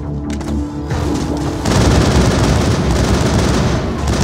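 Gunfire in the video game Mass Effect: a dense, continuous rattle of rapid shots and booms, loud and close, swelling after the first second and running unbroken with no speech.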